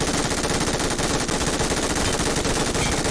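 Dense, continuous automatic gunfire in a shooter video game, loud and unbroken rapid shots filling the whole stretch with no talk over it.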